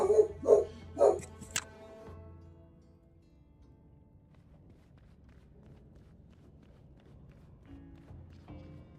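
A pet dog barks three times in quick succession near the start, loud and close indoors, then the room falls quiet apart from low background hum.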